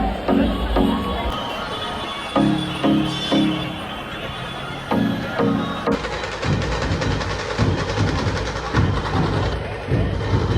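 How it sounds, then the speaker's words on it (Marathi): A dense crowd mills along the Chinchpokli Chintamani Ganpati arrival procession in Mumbai, a loud, continuous roar of many people with rhythmic thumping bursts throughout. "लय बेकार गर्दी आहे."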